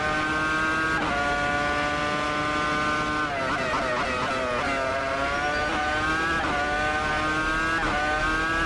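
Williams FW26 Formula One car on soft tyres in a Canadian Grand Prix racing game, engine howling steadily with pitch swoops and shifts as it slides and drifts through a corner, loud and continuous throughout.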